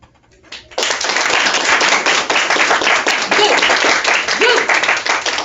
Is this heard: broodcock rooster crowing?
no